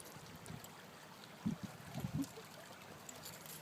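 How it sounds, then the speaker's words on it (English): A babbling brook trickles faintly in a park in downtown Toronto, a soft, continuous wash of water with a few gentle gurgles. It sounds quiet and fairly distant. "we're sitting beside this babbling brook"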